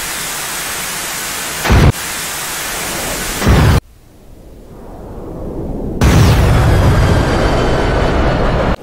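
Several AMRAAM missiles from an F-15C strike targets in DCS World: loud broadband rumbling blasts, a couple of sharp impacts, a brief quieter lull, then a heavy sustained roar that fades out.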